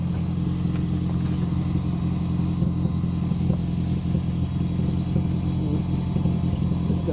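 Idling engine of a 2007 Toyota Prius Mk2 1.5 VVTi hybrid with an exhaust leak at a joint, a steady low rumble with a faint puffing blow running throughout, close by and alone.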